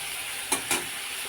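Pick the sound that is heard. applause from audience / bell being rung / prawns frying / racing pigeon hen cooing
prawns frying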